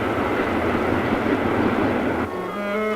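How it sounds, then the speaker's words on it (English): An electric train runs on London's Metropolitan line in archive footage, a steady loud rumble throughout with a shift partway and a faint whine near the end. "Fast new electric trains were whizzing along"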